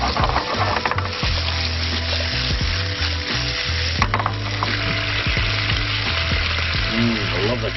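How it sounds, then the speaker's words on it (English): Leftover pasta reheating in a pan for lunch at a backyard cook-up, a steady loud sizzle and crackle with occasional stirring scrapes running throughout, no talk. "time to reheat the pasta for lunch"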